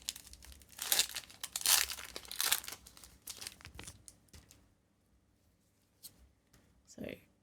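A Pokémon Prismatic Evolutions booster pack torn open by hand, close crinkly foil crackling and ripping in bursts over the first few seconds, then quieter rustling, with a voice talking over it.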